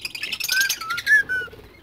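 Rico, a pet bird, sings close by in a few quick chirps followed by clear rising whistled notes, loud and alone with no voices.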